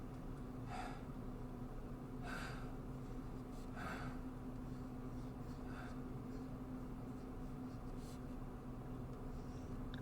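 A tabletop game narrator imitates slow, heavy breathing in a dark tunnel, with four or five drawn-out breaths spaced a couple of seconds apart over a low, constant hum.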